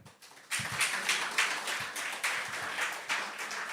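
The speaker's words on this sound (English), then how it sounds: "Clap." An audience claps at a creative-industry masterclass launch, a steady wash of many hands with a few louder, closer claps standing out over about four seconds.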